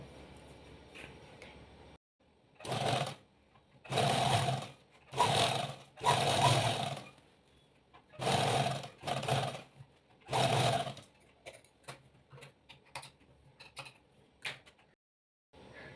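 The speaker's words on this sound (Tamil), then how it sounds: "இந்த சைடில் மட்டும் ஒரு 1/2 இன்ச் இல்லை 1/4 இன்ச்சு ஸ்டிச் பண்ணுங்கள்." A sewing machine stitches salwar pant pieces in loud bursts of rapid whirring, several runs of one to two seconds separated by pauses, ending in shorter, fainter ticks and clicks.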